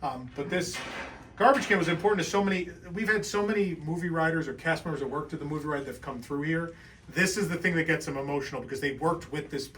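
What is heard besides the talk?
None of the usual background noises is heard.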